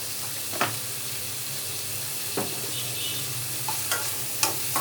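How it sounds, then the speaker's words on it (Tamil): Onions sautéing in a pan with a little salt give a soft continuous sizzle, broken by a few scattered stirring scrapes and clinks. "ஆனியன் வதங்கட்டும்."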